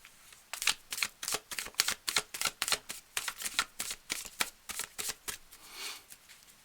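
Tarot cards are shuffled in a quick series of crisp riffling bursts, roughly fifteen sharp flicks in an even rhythm, close and fairly quiet, with no talking.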